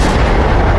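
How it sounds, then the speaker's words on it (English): A close, heavy blast from A-10 bombs exploding in the DCS World flight game, a loud low rumble filling the whole moment. "Very close bombs from a hog."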